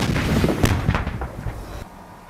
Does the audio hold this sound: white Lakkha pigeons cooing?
no